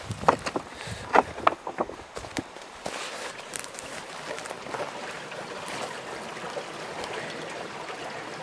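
Water trickling and splashing through a creek bottom at a mining spot, a steady close, soft wash of flowing water, with a few footsteps and knocks against rocks early on.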